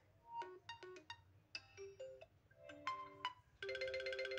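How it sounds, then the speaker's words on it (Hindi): A custom ringtone plays back on an Oppo A53s 5G phone: a quiet, bright electronic melody of short plucked notes that ends in a sustained, fuller chord. "तो जैसे कि मैं यहीं से ले लेती हूँ अपनी कोई भी कस्टम रिंगटोन"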